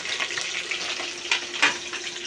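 Panch phoron spices and green chillies frying in hot oil for a spinach dish with bori, a steady close sizzle with crackling pops and no talking.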